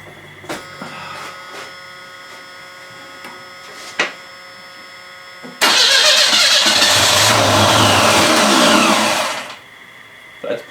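A carbureted car engine, its carb just primed during a reseal turned rebuild, cranks with a few short bursts, then catches and roars loudly for several seconds before cutting off, with brief knocks around it.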